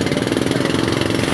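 A small outrigger boat's engine chugs steadily through big waves, a loud, rough, even drone with a fast pulsing rhythm and no voices.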